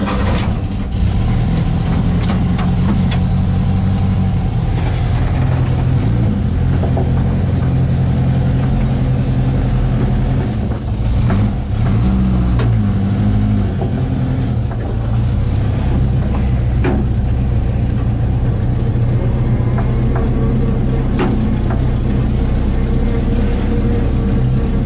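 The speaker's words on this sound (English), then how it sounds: "Give her a cold start." A 1959 Volkswagen single cab pickup engine, under restoration, runs close and loud after a cold start, settling into a steady idle with a rough low rumble and a few brief revs, with no talking.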